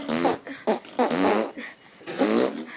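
A string of five or six loud, close fart noises with buzzy, tonal sputters, each lasting a fraction of a second and separated by short pauses. They sound as if made by a voice or mouth imitating farts.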